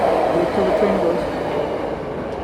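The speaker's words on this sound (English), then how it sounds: "wait till the train goes." A train passes by as a steady, loud rumble that fills the whole stretch evenly, with no clear peaks and no talk over it.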